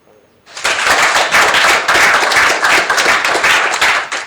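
At a Hindi poetry gathering, an audience breaks into loud, sustained applause as a poet from Bhopal is welcomed to the stage. The dense clapping starts abruptly after a brief quiet moment and carries on steadily.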